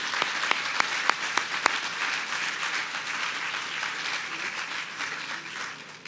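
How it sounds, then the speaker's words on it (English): Sustained audience applause fills a hall at a leadership awards event, dense and steady throughout with a few sharp individual claps standing out near the start. "Let's give them a round of applause"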